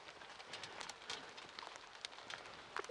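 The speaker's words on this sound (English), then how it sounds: "Oh, it's raining. It's getting my pastry wet." Steady patter of rain falling outdoors on surfaces near a pastry being egg-washed, a dense hiss of drops with occasional sharper close impacts, fairly faint.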